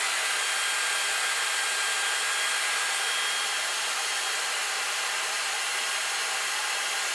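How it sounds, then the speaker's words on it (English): A steady, loud whoosh of blowing air from a Dyson hair wrap styler runs continuously, like a hairdryer, with no pauses or voices. "Does sound like a hairdryer, it's quite noisy, but I guess that's for the amount of air passing through."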